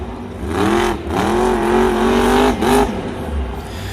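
A Monster Jam monster truck driven by Jim Kohler in Denver revs hard during a sky wheelie, its engine roaring and rising in pitch in repeated surges, loud and close over arena noise.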